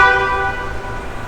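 A car horn sounding on a used car under inspection, a steady loud harmonic blare held for over a second, close to the microphone with no talk.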